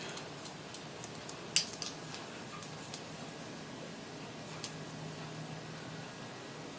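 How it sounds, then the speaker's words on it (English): Golden Touch styling shears snip at the fringe of curly hair in sparse, crisp ticks, with one sharper cut standing out, faint and close over a quiet background hiss. "Pull it up, let that fringy bit drop out, and then point cut to even it."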